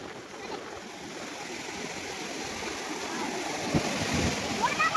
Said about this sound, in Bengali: ঢেউ দেখো পুরো পা পর্যন্ত চলে আসছে